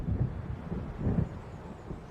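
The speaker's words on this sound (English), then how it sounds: "It seems there's a storm coming." Low rumbling thunder of an approaching storm over waves in the video game Alan Wake, a steady dull roll swelling twice over a constant background rumble.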